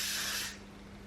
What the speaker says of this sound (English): I would recommend to put hairspray on though, because you can just sometimes get some flyaways